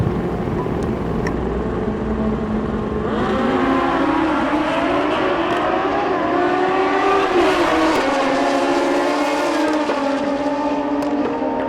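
Two drag racing motorcycles, a first-generation Suzuki Hayabusa and a 2007 Kawasaki ZX14, launch together at the Mancup World Finals: a loud, sustained high-pitched engine wail climbing through gears at close range, with no talking.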